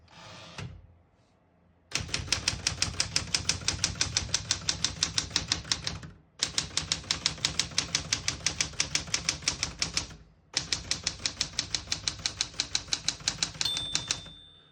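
Steady keystrokes on a 1975 Smith-Corona Galaxie Twelve portable manual typewriter in quick rhythmic runs, three long bursts separated by short pauses, close and crisp.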